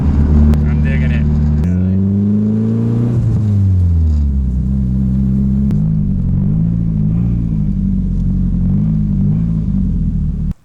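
A JDM right-hand-drive turbo hatchback driving at light quarter throttle, a loud, close engine drone heard from inside the cabin that climbs and shifts pitch through gear changes, with a person talking over it.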